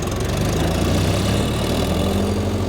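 A Greenmech EVO wood chipper's engine runs at a steady idle just after starting, a close, even mechanical chug holding at a constant pace.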